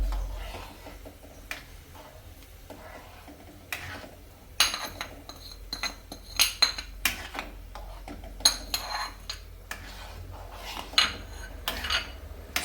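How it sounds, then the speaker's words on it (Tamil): Semolina for pineapple kesari is stirred in a pan on a low flame, heard as quiet, irregular metal clinks and scrapes of the spoon against the pan over a low background, with no speech. "அதனால் நீங்கள் சிம்மில் வச்சுட்டே கொஞ்சம் கொஞ்சமாக கிளறி விட்டுட்டே ஆட் பண்ணுங்கள்."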